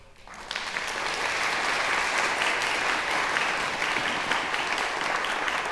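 A concert hall audience at a singer's concert breaks into sustained applause, the clapping rising quickly from a quiet start into a steady, full, enveloping roar that holds throughout.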